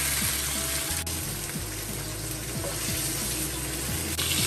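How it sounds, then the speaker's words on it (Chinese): Water poured into a hot wok holding stir-fried pork slices, a steady rushing hiss and bubbling sizzle running throughout, close and fairly loud, with occasional scraping clinks of a spatula. "个肉片翻炒一下，倒水。"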